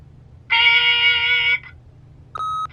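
An answering machine in the video game The Wolf Among Us sounds a clear electronic beep lasting about a second, then a shorter second tone after a pause, loud against near silence.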